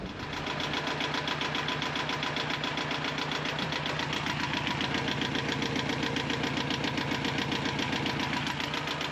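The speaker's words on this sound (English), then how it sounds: "get it reinstalled and run the engine and see how she looks" A sailboat's engine, just reinstalled after a leaking water pump repair, runs steadily at close range on sea trials, a rapid rhythmic knocking chug that stays constant and loud throughout.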